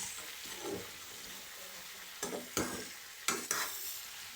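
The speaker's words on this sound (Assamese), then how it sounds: "এতিয়া ভাজি আছোঁ, যিমান ভাজে সিমান খাই ভাল লাগে" Meat cooked with sugar sizzles softly in a pan while a utensil stirs and scrapes a few times, the clatter brief and close over the steady fry.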